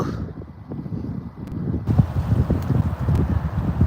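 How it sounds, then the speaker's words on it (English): Strong outdoor wind blowing sand, heard as loud, constant, buffeting rumble against the microphone with gusts that swell and fade, and no talk. "Lord, I could deal with the wind."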